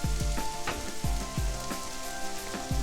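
Chicken stir-fried rice sizzles loudly in a hot pan, a steady dense crackle broken by a series of sharp metallic clanks as the rice is tossed and stirred, close and continuous throughout.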